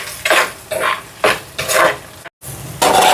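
Garlic, small shallots and chillies stirred and sautéed in a pan, with loud rhythmic scraping strokes of the spoon over a steady frying sizzle, several sweeps in a row with one brief pause.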